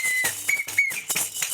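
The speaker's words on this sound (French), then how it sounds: "Tout bon supporter doit partir bien évidemment équipé pour faire du bruit. Donc on a des sifflets" Football supporters blowing whistles on a trip to Brazil's Maracanã: several short, shrill, steady-pitched blasts in quick succession, loud and close, with a noisy crowd-like wash underneath.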